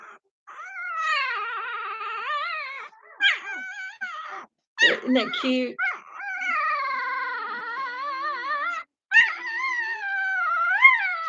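A small dog makes high, wavering whines and yelping growl-like cries in several close bursts with brief pauses, while a person speaks briefly.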